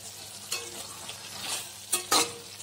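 Tomato and brinjal cooking in a pan for Madurai-style kathirikai puli kuzhambu, a low simmering sizzle punctuated by a few sharp spoon scrapes and mashing knocks near the end, close by and without speech.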